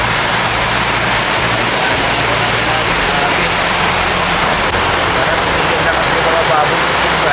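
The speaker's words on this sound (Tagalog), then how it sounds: "wala pa din tigil yung ulan." Heavy typhoon rain roars on a hut as a dense, constant hiss, loud and unbroken throughout.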